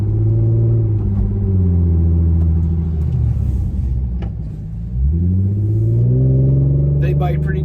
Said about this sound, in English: here we are bedding the brakes